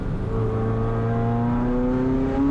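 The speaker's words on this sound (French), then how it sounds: "Imaginez ce V8 qui s'éveille derrière vous. Le grondement du moteur, les turbos qui sifflent" A Ferrari F40 twin-turbo V8 engine hums steadily with rising harmonic tones as revs climb slowly, a continuous close mechanical drone with no voices.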